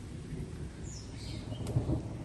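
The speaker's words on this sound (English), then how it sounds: "this is just fantastic experience for the puppies, hearing all this thunder" Low, rolling thunder from a storm outside, a broad rumble swelling toward the end with faint bird calls and light rain in the background.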